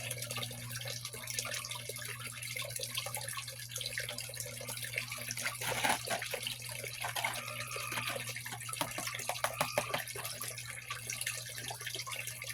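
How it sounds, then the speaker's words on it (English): Stream water runs steadily over gravel and a gold prospecting mat, a continuous close wash with small trickles and splashes throughout, no talking. "I'm letting the water come up on the spoon and wash it off so it takes it kind of at its own pace"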